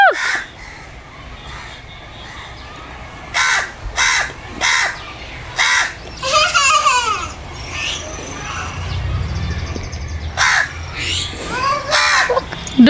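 Crows caw loudly and repeatedly just outside a house, their harsh calls coming in uneven bursts close by, with faint voices and background activity underneath.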